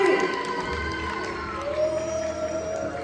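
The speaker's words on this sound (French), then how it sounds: "Allez, pour l'équipe romaine, on applaudit bien fort." An audience at an Astérix-themed park show cheers and shouts for the Roman team in a short burst of crowd noise, with children's voices prominent and a brief swell of cheering partway through.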